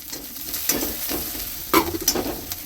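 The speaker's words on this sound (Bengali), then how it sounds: "এটাকে একটু কষিয়ে নেবো তেলের সাথে" Onion, garlic and ginger sizzle and crackle in hot oil with turmeric, with intermittent stirring scrapes and bursts of louder frying.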